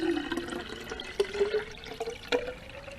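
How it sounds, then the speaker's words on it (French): Clean water pours into a half-empty bottle of dirty water, a steady filling gurgle whose pitch rises as the bottle fills, with a few small clinks and splashes, close and fairly quiet. "et que je mets de l'eau propre"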